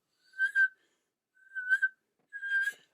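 A person whistles three short notes spaced about a second apart, each clear and near with a slight waver. The whistling is made with the mouth, imitating a whistle sound.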